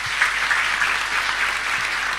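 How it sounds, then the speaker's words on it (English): Steady, dense audience applause at a music-industry masterclass, a broad wash of many hands clapping at even strength throughout with no voices on top. "Please give Karabo and Rowlin a massive round of applause."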